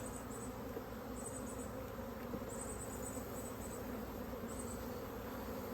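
Honey bees hum in a continuous close buzz while being stocked into a mini mating nuc, the dense drone steady throughout and without voices.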